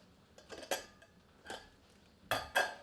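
A pressure cooker lid is opened after cooking an oil-free spicy mutton curry, giving a few sharp metallic clinks and clanks spaced out over a quiet kitchen background, with a louder double clank at the end.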